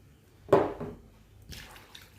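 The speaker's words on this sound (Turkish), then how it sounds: "4 bardak suyumuzu döktük." Water is poured into a pastry dough mixture for Turkish çarşaf böreği, with one splashy pour followed by a softer second pour, close and fairly loud with no talk.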